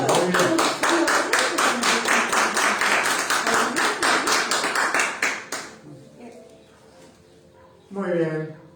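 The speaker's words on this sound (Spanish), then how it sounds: "Un aplauso al Señor." A church congregation claps in a fast, even rhythm for about five seconds, loud and close, before the clapping stops and a voice speaks briefly.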